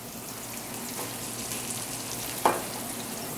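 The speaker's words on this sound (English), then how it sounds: "We're cooking beef" Beef frying in a pan on a gas stove, a soft, steady sizzle and crackle at moderate distance, with one sharp knock or clatter near the end and no talking.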